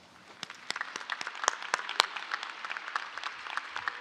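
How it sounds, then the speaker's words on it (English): Scattered hand claps from a graduation ceremony audience come as separate, sharp, uneven smacks rather than a full roar. They sound moderately close and continue at a fairly light density throughout. "Keep clapping. Keep clapping. Clap louder."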